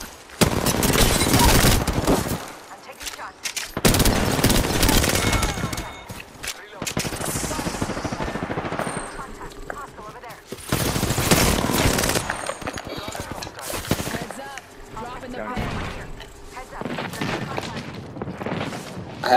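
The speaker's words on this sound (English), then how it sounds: "Fire. I'm taking shots." Repeated bursts of automatic weapon fire in the battle royale game Apex Legends during a ranked Season 8 match, loud, rapid and close, separated by short pauses, with a player's voice calling out over some stretches.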